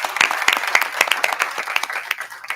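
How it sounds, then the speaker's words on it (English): Applause for an incoming board member at a Southern University Board of Supervisors meeting, a room of scattered hands clapping in uneven rhythm at moderate level, steady through the moment with no voice over it. "Let's give the incoming board member,"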